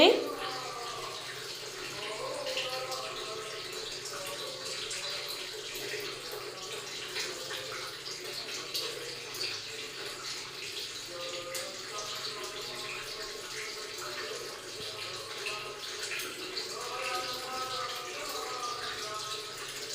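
Green chillies rinsed under a running kitchen tap give a steady, moderately close wash of splashing water that holds at an even level throughout.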